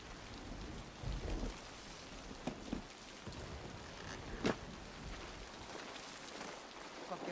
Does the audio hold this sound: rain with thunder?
yes